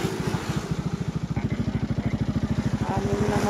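A motorcycle engine thrums in a fast, steady, close pulse while a group of six motorbike riders travel together toward Sampitan Beach in Mauban, Quezon.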